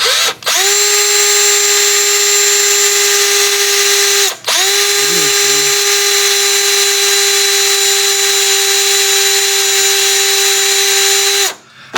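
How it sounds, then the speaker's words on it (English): Power drill boring a hole while installing a fan controller in a 1980 Chevy Caprice, a loud, steady high-pitched whine held for several seconds, briefly stopping once before resuming and ending with a brief voice in the pause. "Now I'm gonna start drilling, but if it gets a little hard, I may have to use both my hands."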